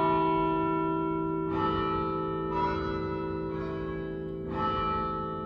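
Carillon quarter bells struck by electronic hammers ring over a sustained bell hum, four distinct strikes at roughly one-second intervals, full and resonant, heard alone.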